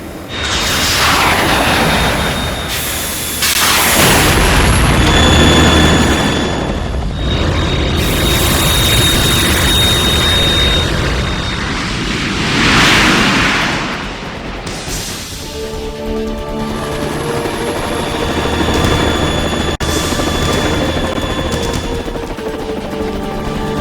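A Harrier jet fighter in the video game Metal Gear Solid 2 roars loudly through repeated swelling passes mixed with booming blasts and gunfire, sustained and dense throughout.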